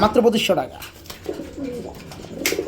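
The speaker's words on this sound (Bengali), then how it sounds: "খুবই সুন্দর এক জোড়া রেসার কবুতর আছে" A pair of racing pigeons from a wholesale pigeon seller cooing softly close by, their low throaty calls partly under someone talking.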